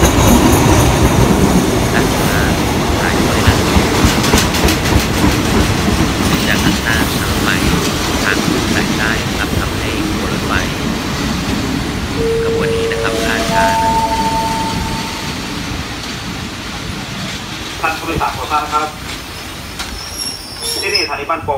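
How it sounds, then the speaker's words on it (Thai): An ordinary all-third-class passenger train, number 262, pulls into Ban Pong railway station in Thailand with a loud, continuous rumble of wheels on rails and sharp, drawn-out brake squeals near the end. "ขบวนรถธรรมดาที่262นะครับเป็นรถนั่งชั้น3ทั้งขบวนนะครับกำลังเข้าจอดสถานีรถไฟ"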